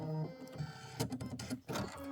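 A sewing machine sews a decorative stitch on a chenille quilt, a close, fast mechanical chatter with a few brief pauses and restarts, running alone.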